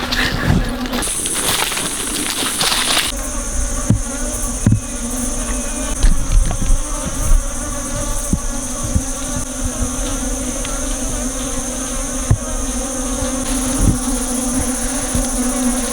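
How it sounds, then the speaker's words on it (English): A dense swarm of bugs buzzes steadily and close outdoors in the morning, with a constant insect drone and occasional brief rustles and taps. "you can see the bugs are extremely bad this morning"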